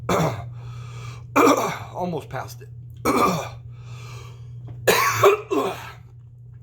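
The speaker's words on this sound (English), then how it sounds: "so it's making me cough, making me want to sneeze" Someone coughs repeatedly in harsh, close bursts with throat clearing in between, irritated by piri piri chilies, a few words spoken among the coughs, over a low steady hum.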